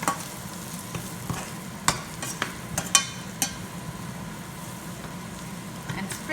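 A chickpea-powder mixture frying in a pan for spicy crunchy idli while being stirred, giving a steady soft sizzle broken by several sharp clicks and scrapes of a utensil against the pan, with no one speaking.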